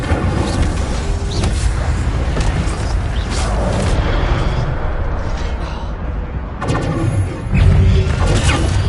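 The Incendio fire spell is cast in Hogwarts Legacy, a loud, dense burst of fiery whooshing and crashing impacts that rumbles on, then ends in a final heavy thud.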